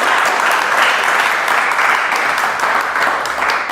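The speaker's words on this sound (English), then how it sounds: "just a round of applause, please, for Carolyn" A room of attendees gives a steady round of applause for a woman presenter, dense continuous clapping at even loudness from start to finish.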